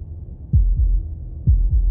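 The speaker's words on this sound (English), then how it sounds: "That was the sound of a heartbeat" Heartbeat effect from the game Slay the Princess: two paired low thumps, a lub-dub double beat repeating twice, deep and soft against a quiet hum.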